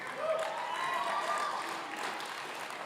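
Audience applauding at a public debate over whether Jesus existed; a steady, moderately loud patter of many hands with a faint tonal whine running through it, tapering off toward the end.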